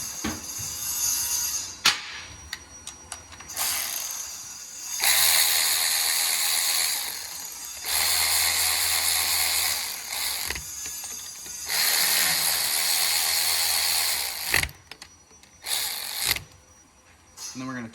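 A ratchet tightening bolts on a Hawk 250 motorcycle, repeated fast clicking bursts of several seconds each, separated by short pauses and a few knocks, close and fairly loud, with someone talking.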